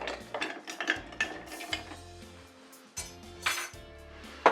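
Cocktail for a Toronto stirred with ice, irregular clinks and rattles of ice and a spoon against glass, close and fairly quiet, with sharper knocks scattered through.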